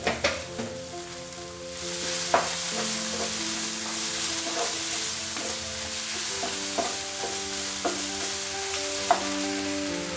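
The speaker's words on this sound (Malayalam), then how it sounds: "ഇതിപ്പോൾ ഒരുമാതിരി നന്നായിട്ട് വഴറ്റി വന്നിട്ടുണ്ട്." A spiced mixture with a pinch of chili powder sautés in a pan, a steady soft sizzle broken by a few scraping stirs of a spoon, close and alone with no talking.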